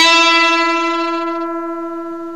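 An electric guitar rings out through an amplifier's gain channel, a single sustained chord or note with rich overtones that slowly decays over a couple of seconds, heard alone and up close.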